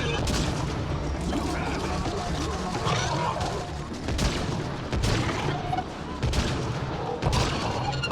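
Dense gunfire from a firefight in the video game Mass Effect: Andromeda: rapid overlapping shots and sharp cracks with heavy low booms, loud and continuous throughout, with speech faintly underneath.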